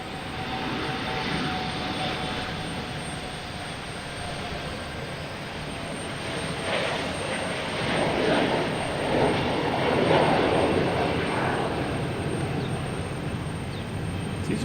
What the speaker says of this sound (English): We get Delta E175, flight